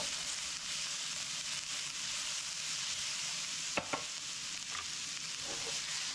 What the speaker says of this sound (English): Throw the zucchini in there.